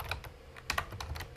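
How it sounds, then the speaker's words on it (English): Computer keyboard being struck hard by someone typing, a quick irregular run of sharp, close clacking keystrokes with no talk. "someone's whacking on their keyboard"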